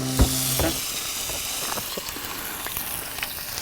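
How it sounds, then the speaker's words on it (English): Marinated yabbies on skewers sizzle in a hot pan: a thump as they go in, then a steady close frying hiss with scattered small pops and crackles, no voices. "Then I plate it up and make a start on cooking the yabbies."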